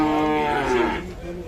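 A Sahiwal bull calf at a rural cattle market gives a single loud, close moo that lasts over a second and then tails off into faint background noise.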